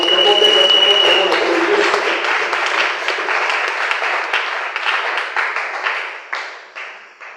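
A church congregation applauds and cheers, dense clapping with shouts at first, then thinning into scattered claps that fade away.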